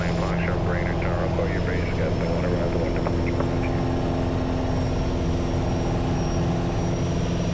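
A Piper Warrior propeller aircraft's engine drones loud and constant from inside the cockpit during a climb after takeoff, with a steady low hum throughout and faint radio chatter early on.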